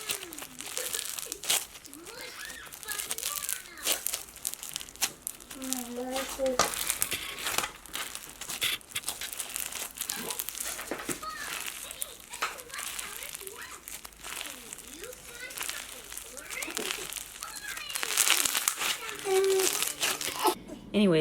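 Dense, continuous crackling and crunching squelches repeat close up for the whole stretch, with a voice talking intermittently over the crunches.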